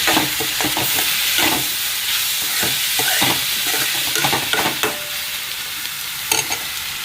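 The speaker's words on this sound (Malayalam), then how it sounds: "ഇവിടുന്ന് ഫ്രൈ ആയി വരുന്നുണ്ട്" Fish frying in hot oil in a pan beside a chili masala, making a loud, dense, continuous sizzle close by, with occasional clatters of stirring and no voices.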